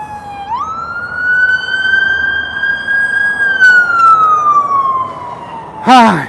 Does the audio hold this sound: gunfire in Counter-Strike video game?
no